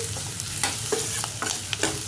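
Chopped tomatoes sautéing in a pan while making a South Indian sambar, with a steady soft sizzle and occasional stirring scrapes, quiet and close, with no talking.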